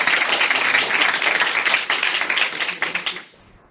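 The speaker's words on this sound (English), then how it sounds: "can we start by giving a round of applause?" Conference audience applauding at the end of a session: dense, steady clapping from a sizable crowd, loud and even, thinning out and fading to silence over the last half second.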